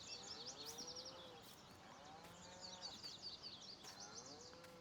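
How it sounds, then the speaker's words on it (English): Several cows moo on a dairy farm in Farming Simulator, three drawn-out calls at a moderate distance, with bird chirps in the background. "He's got plenty of cows, hasn't he?"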